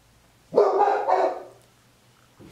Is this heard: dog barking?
yes